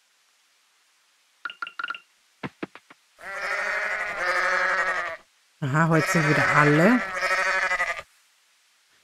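Sheep bleating in the farming video game Coral Island. A few short clinks come first, then two long, loud bleats fill the pen, and a person speaks briefly.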